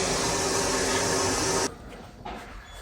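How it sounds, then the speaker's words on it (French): A vacuum cleaner runs loudly and close while emptying a boat's clogged black water tank, then cuts off abruptly partway through, leaving only quiet clunks and faint rustling. "je vais essayer de vider avec mon aspirateur"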